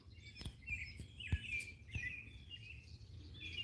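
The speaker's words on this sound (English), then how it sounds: "birds are really singing, yep" Wild birds singing in trees on a morning outdoors, with scattered chirps and short trills at moderate distance, fairly faint, mixed with a few soft taps and bumps and no talk.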